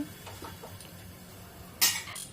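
A sharp metallic clang as a lid goes onto a pan of cooking taro leaves, one bright hit near the end after quiet, faint kitchen rattles.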